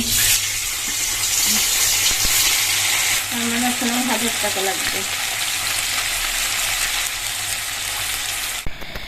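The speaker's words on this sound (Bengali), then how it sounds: "তেল গরম হয়ে গেছে এবার আমি দিয়ে দেবো মাছ" Amudi fish frying in hot oil in a wok give a loud, continuous, crackling sizzle that runs close and strong throughout, with a voice speaking briefly over it and a clatter near the end.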